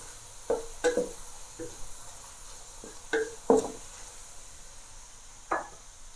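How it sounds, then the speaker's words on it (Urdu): Cumin seeds, about a tablespoon, added to a pan to fry lightly, giving scattered soft crackles and stirring clinks in short bursts against a quiet background, with no one talking. "زیرہ میں نے 1 ٹیبل سپون لیا تھا، وہ ایڈ کر رہی ہوں۔ اس کو ہم ہلکا سا فرائی کر لیں گے۔"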